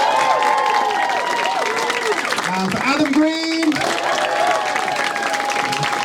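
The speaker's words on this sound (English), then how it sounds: "Put your hands together for Chris Oyen and for Tim Reeves" A comedy-club audience at an Edinburgh Fringe Comedian of the Year heat gives sustained, dense applause with some cheering, while a host's amplified voice speaks over the clapping throughout.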